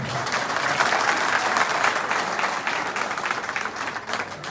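A crowd claps steadily at a live comedy event, a dense, even wash of applause from many hands held at moderate loudness throughout.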